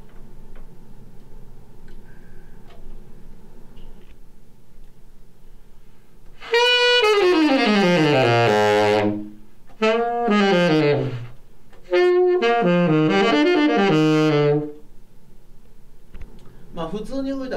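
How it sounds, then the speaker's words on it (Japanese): A brass instrument played gently through a hard mouthpiece gives several soft sustained phrases with sliding pitch, separated by short gaps, over a quiet room with a faint ticking in the background. "硬いマウスピースで、硬い方ね、これ硬い方で優しい音出す"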